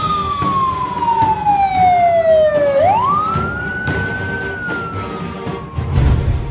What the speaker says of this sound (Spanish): en ese momento se escuchó el sonido de una ambulancia que